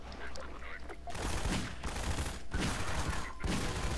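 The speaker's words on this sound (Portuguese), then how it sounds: "ficou mó tiroteio aqui" Gunfire in a Half-Life 2 shootout: rapid bursts of dense, loud shots rattle almost continuously over several seconds, with brief gaps between volleys.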